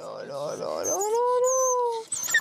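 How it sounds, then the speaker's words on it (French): A small dog whimpers up close in a veterinary setting, a wavering nasal whine that rises into one sustained high cry, then breaks off into short yelps. "Oh, le petit chien."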